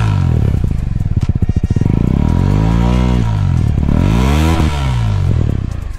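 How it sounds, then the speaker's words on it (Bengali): A Suzuki Gixxer 250 motorcycle idles in neutral and its exhaust is revved repeatedly, the deep bassy note rising and falling in loud, close sweeps with no talking. "আচ্ছা, এটার এক্সস্টের সাউন্ডটা একটু শোনাই।"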